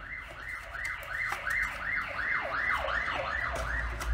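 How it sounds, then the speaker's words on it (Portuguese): An ambulance siren wails outside at a steady rhythm, its rising and falling sweeps repeating about every half second as it passes, heard through a room's background noise. "Tem uma ambulância passando aqui agora."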